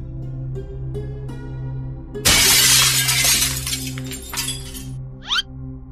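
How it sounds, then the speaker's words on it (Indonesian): Glass shatters suddenly in a loud, bright crash with scattering shards tinkling afterward, set against a steady low hum and a quiet background. "Seperti kaca pecah gitulah"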